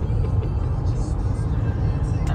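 A car being driven along a road, a steady low engine and road rumble filling the background throughout, heard from inside the cabin.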